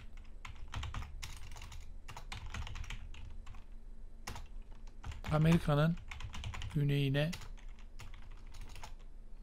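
Computer keyboard typing during a translation lesson, bursts of rapid, close clicks and key taps, with a voice briefly speaking between them.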